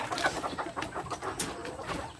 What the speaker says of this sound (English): a male chicken, Bantam chicken